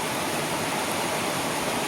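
A flowing stream along a flood-damaged canal rushes in a steady, dense wash of water noise that runs unbroken and alone throughout, with no talk.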